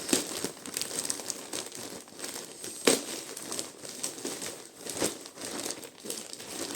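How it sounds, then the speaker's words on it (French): Paper parcel packaging being torn and crumpled open, a continuous crinkling and ripping with a sharp tear near the middle, fairly close and steady. "Donc, oups, ça se déchire de partout."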